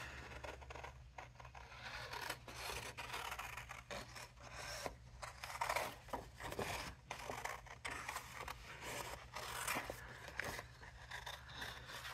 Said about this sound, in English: now I'm going to cut this out.